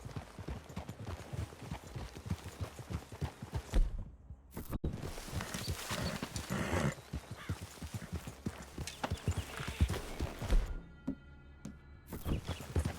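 Several horses clip-clop close by at a walk in Red Dead Redemption 2, their hooves thudding steadily on the ground as they approach a clearing, with a brief pause in the middle.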